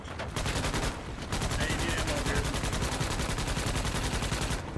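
A turret gun fires in Starship Troopers: Extermination, a fast, steady stream of automatic shots that runs nearly unbroken and loud, with a brief lull early on.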